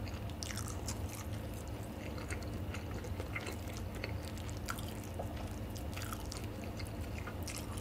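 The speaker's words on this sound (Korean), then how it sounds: "뿌링클 하나 먹었는데 이거 먹고 또 먹을 거예요" Continuous close-up chewing and biting of Bburinkle seasoned fried chicken drumstick, with steady wet crunches and squishy mastication sounds throughout, no talking.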